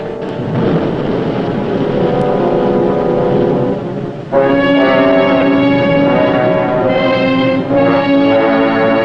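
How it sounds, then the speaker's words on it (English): A deep, steady churning drone with a rhythmic mechanical throb from high-speed ship propellers heard underwater, briefly dipping before returning louder and fuller. "High-speed propellers bearing 337."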